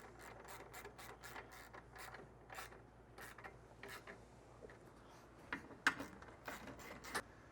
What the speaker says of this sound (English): I'm going to go ahead and tighten down this rail and my brackets